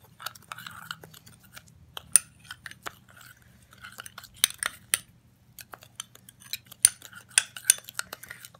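A spoon stirs a green tea face pack in a small bowl, making irregular light clicks, taps and scrapes at close range, with a soft low hum underneath.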